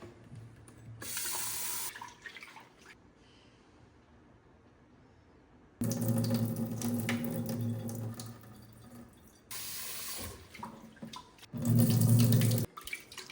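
Tap water runs into a container of tomato seeds and is swirled and poured off, bursts of splashing flow alternating with quiet gaps, close and fairly loud.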